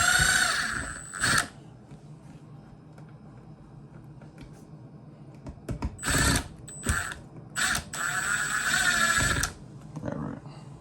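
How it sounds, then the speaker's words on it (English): A cordless impact driver runs in short bursts while backing long screws out of an electrical outlet. Sharp whirring and rattling spurts stand out against a quiet indoor background, with pauses between them. "I'm going to go ahead and use my impact. These screws are a little longer."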